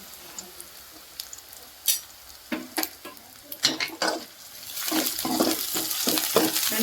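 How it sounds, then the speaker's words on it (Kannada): Onions fry in a pan with scattered spatula scrapes and taps, then a soft hiss of sizzling swells and holds through the final seconds. "ಇವಾಗ ಉಳ್ಳಾಗಡ್ಡೆ ಎಲ್ಲ ಫ್ರೈ ಆಗ್ಯಾವಲ್ಲ"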